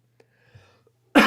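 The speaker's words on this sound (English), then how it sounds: "my throat is raw from coughing these days" Near silence with faint small mouth noises, then a single sharp, loud cough bursts out at the very end.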